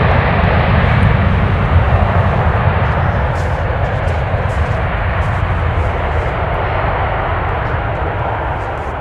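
A fixed-wing airplane roars close overhead while arriving at MSP airport in the Twin Cities, a loud steady broadband engine rumble that holds nearly constant throughout and eases only slightly toward the end.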